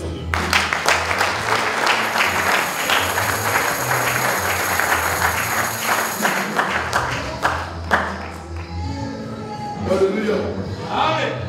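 A church congregation applauds loudly and steadily in praise, with clapping and crowd noise and a voice calling out over it. The applause fades near the end, leaving scattered voices.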